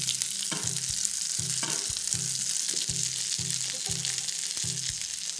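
Fish fries in browned nut butter in a pan over lowered heat, a steady dense sizzle with repeated stirring or basting knocks and scrapes every second or so, close and continuous with no voices.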